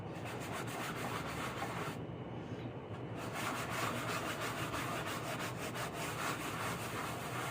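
Steady close rubbing and wiping as excess clay-based paint is worked off a furniture piece, a continuous scuffing texture with a brief lighter stretch partway through, no voices.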